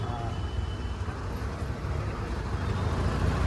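Road traffic passes near road works, a steady low rumble of cars and heavy vehicles with constant engine drone close by.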